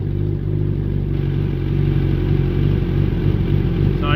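A Gen3 Suzuki Hayabusa motorcycle engine idles steadily with a deep, even rumble and a mechanical clatter, close and constant, with no voices.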